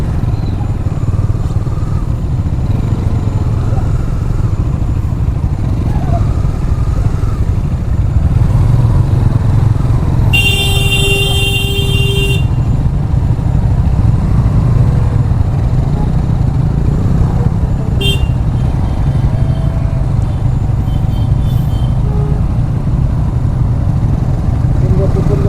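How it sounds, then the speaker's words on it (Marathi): A one-way road in a full traffic jam on the way to Lonavala: motorcycle and car engines drone steadily up close, and one horn blast sounds for about two seconds midway, followed by a fainter short honk. "फुल ट्रॅफिक जाम आहे बा इकडं वन वेला."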